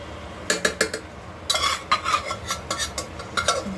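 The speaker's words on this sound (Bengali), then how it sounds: "তো চলো এখন এগুলোকে ভালো করে এখান থেকে কাচিয়ে নিতে হবে।" Fried cabbage with green peas being scraped and stirred in a wok, heard as a quick rhythm of close metallic scrapes and clinks over a faint sizzle.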